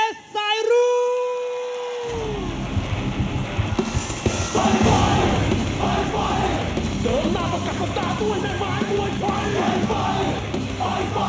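A crowd roars and yells for a Thai Fight boxer at a 2015 event at the Police Academy, a loud sustained mass cheer that swells after an opening whoosh and continues with shouts throughout.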